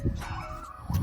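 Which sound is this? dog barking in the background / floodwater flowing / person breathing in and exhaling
dog barking in the background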